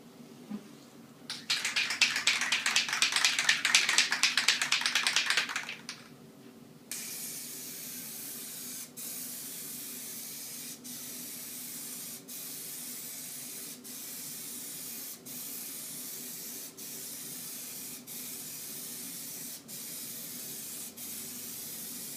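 An aerosol can sprays Plasti Dip in a steady loud hiss for about five seconds, laying a stripe on an SRT-4 car. A fainter continuous hiss follows with regular soft ticks, and no one talks.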